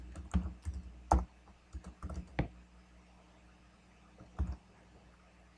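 Someone types code on a computer keyboard, with quiet, irregular bursts of clicky keystrokes separated by short pauses.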